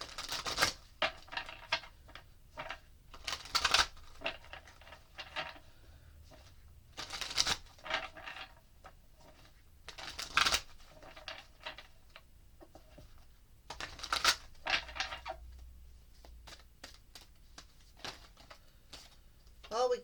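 Tarot cards being shuffled in repeated riffling bursts, crisp and close, with pauses between rounds and a voice speaking quietly in between.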